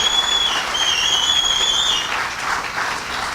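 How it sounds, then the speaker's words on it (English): Audience applauding at an official loan signing ceremony, sustained clapping with a thin whistle riding over it early on, easing slightly toward the end. "Let's give the CCC a round of applause."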